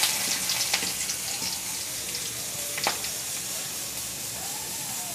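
Two cardamom pods, two cloves and five bay leaves sizzling in hot oil, cooked outdoors in a jungle: a steady bright hiss with scattered small crackles and pops, fairly soft and close, with no talking.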